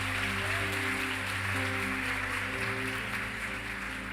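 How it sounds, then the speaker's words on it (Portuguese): Church congregation applauding during a sermon: a dense, steady wash of clapping from many hands, sustained over a low hum from the sound system, with no speech on top. "Se você crê, aplaude o nome de Jesus aí,"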